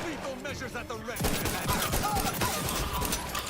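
Dense gunfire and explosions in the Outer Worlds 2 video game, a steady barrage of overlapping shots and blasts that swells loud after the first second and keeps going, with a voice speaking faintly beneath the opening.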